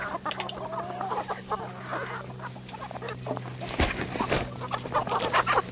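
Free-range Indio Gigante chickens clucking and murmuring nearby, with scattered soft calls and a low steady background hum throughout.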